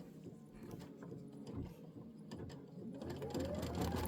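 An embroidery machine stitching an outline stitch gives a faint, close mechanical whir with light ticking gear sounds that swell slightly toward the end.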